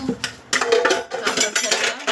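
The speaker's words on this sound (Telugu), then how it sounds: "నైట్ తిన్న గిన్నెలన్నీ ఉంటే తోమేసుకుంటున్నాను." Last night's dishes are washed by hand: metal pots and plates clink and scrape in short, close bursts, with water running and no break longer than a moment.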